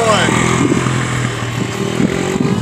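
A dirt bike engine revs steadily on the throttle, loud and continuous with a rough, buzzing drone and faint rattle, close to the listener throughout.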